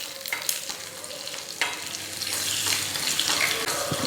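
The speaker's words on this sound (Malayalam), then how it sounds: "ഇത്രയും ചേർത്ത് കൊടുത്തിട്ട് നമുക്ക് നല്ലപോലെ ഒന്ന് ഇളക്കി കൊടുക്കാം" Chili powder stirred into a curry in a pan, with sharp spoon knocks against the pan and a continuous frying sizzle that thickens and grows busier toward the end.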